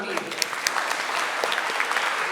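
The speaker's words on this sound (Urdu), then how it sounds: "We should have a big clap" Audience clapping at a Consumer Rights Day and International Women's Day awards ceremony at a resort, a steady crowd applause with sharper individual claps throughout, continuous and fairly close.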